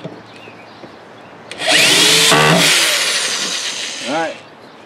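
A power drill drives 1 5/8 inch fine-thread self-tapping drywall screws into wood while a wood duck box is built, giving one loud whirring burst of about two and a half seconds that winds down with a short whine.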